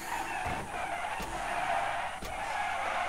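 Tires skid and squeal as a stock car spins out during a NASCAR 21: Ignition race at Phoenix, a continuous loud engine and tire roar with a few sharp bursts, no talking.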